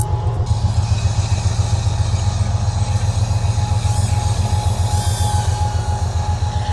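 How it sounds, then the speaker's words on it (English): A train passes close by with a loud, steady rumble and rhythmic clatter of wheels on rail, continuous throughout with some higher squeal above. "you could probably hear it, but that train's ripping"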